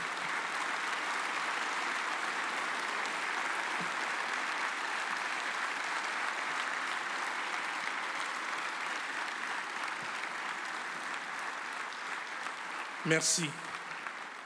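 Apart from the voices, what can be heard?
standing audience applauding Algeria at a business forum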